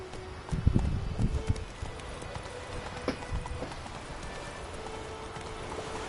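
Roach, a horse in The Witcher 3, gallops with loud, quick hoofbeats up close for about a second, then the clatter fades into a softer ambient game backdrop.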